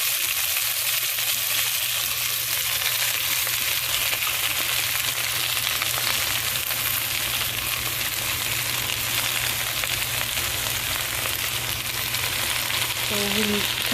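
Gongura (roselle) puree cooking in a little oil over a low flame, giving a steady, even sizzle and crackle that runs unbroken throughout, with a faint clink near the end.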